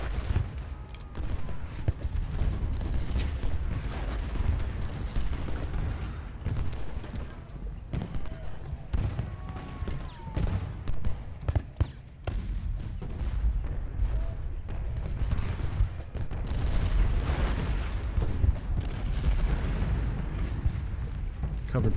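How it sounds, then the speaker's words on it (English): Artillery in the Ultimate General Gettysburg game fires repeated booms over a continuous rumble of battle, with distant gunfire crackling underneath and someone talking intermittently. "I think I need to bring this artillery up. Swing our artillery around."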